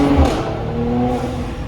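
A 2020 Mercedes C43 AMG with an AMG performance exhaust drones loudly and steadily under a bridge, a close, sustained engine note that holds for under two seconds.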